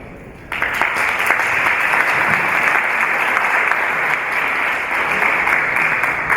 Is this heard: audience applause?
yes